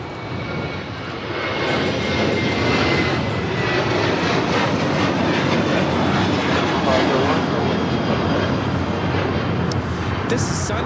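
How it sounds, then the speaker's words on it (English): Sun Country Airlines Boeing 737-800 jet taking off from LAX, a loud, sustained broadband engine roar that swells in the first two seconds and holds steady throughout, with faint talk beneath. "Country Airlines 8501 taking off to Kailua Kona on the 737-800"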